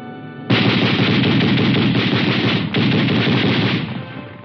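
Sustained burst of 30-caliber machine gun fire from a 1957 US Army armored combat exercise, loud and continuous with rapid rhythmic shots and a brief break near the middle, no talk.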